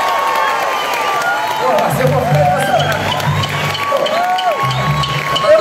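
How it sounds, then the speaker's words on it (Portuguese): A concert crowd at a show applauds and cheers for the guitarists, a dense roar of clapping and shouting that stays loud throughout, with music and a voice running underneath. "Eu quero uma salva de palmas para os guitarristas"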